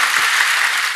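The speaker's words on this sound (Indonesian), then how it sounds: "Berikan tepuk tangan kita untuk Tuhan kita." Congregation applauding at a church service in Indonesia, a dense, steady wash of clapping heard briefly and evenly throughout.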